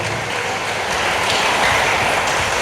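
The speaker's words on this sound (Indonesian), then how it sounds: "Tepuk tangan di atas kepala kita kepada Tuhan." A church congregation claps their hands above their heads in praise, a dense, steady wash of many hands close around with no clear individual beats, continuous throughout.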